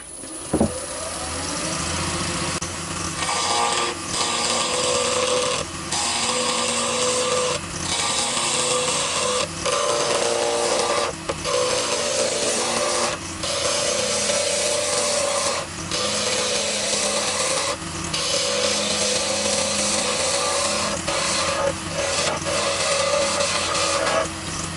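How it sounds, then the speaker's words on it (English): A wood lathe spins a fountain pen blank while a spindle roughing gouge knocks the corners off, giving a continuous loud whirring with rhythmic scraping and cutting chatter that pulses through the cut without letup. "I'm just using a spindle roughing gouge just to take the corners off"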